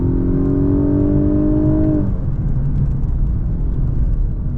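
A 2025 Lexus LS 500h hybrid sedan takes a corner on a road. A loud, close engine-and-motor drone climbs in pitch, then drops away into a steady rush of road and tire noise.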